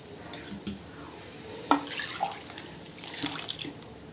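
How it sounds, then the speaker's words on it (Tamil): Rinse water from a mixer jar is poured into a dry fish curry: light splashing and trickling pours, close and fairly soft, with a few drips and small clinks in a quiet kitchen. "மிக்சியையும் அலம்பி அதையும் ஊற்றிடுறேன்."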